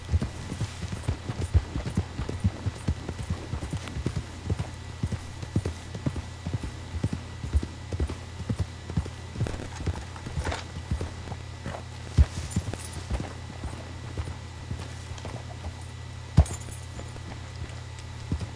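Rhythmic clip-clop of horse hooves walking in Red Dead Redemption 2 over a low ambient hum, steady and close with a few louder knocks.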